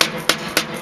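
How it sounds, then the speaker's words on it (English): A rubber hammer strikes metal to shape it at a bio-char workshop, three dull evenly spaced blows over a steady background hiss, close by. "And now we have a rubber hammer."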